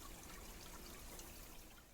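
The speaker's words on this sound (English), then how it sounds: "this gentle cascade with the sound of water" Gentle water trickles down a small cascade over light, porous volcanic tufa stone in a garden, a soft, steady splashing wash with no voices.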